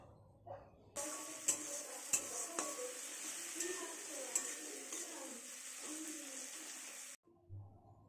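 Vegetables including beans being stirred in a pan, with scraping and clinking of a utensil against the metal over a soft sizzle, steady for several seconds with a few sharper knocks.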